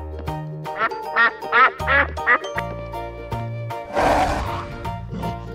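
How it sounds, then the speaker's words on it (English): Duck quacks ring out in a quick burst of four or five loud calls, then give way to musical tones and a noisy splash-like rush, all close and prominent. "Duck."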